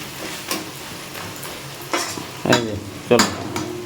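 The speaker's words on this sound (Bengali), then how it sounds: "এই যে চলুন পেঁয়াজটা ভাজা হোক" A spoon scrapes and clinks against a pan as onions are stirred over low, steady frying hiss, with four or five distinct, close stirring strokes spaced unevenly.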